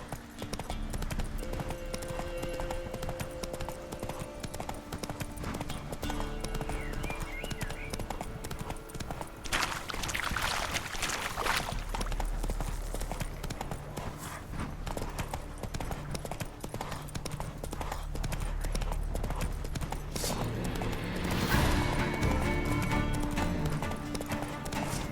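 Roach the horse gallops in The Witcher 3, rapid rhythmic hoofbeats running continuously up close, with whooshing game effects, a whinny and occasional voices.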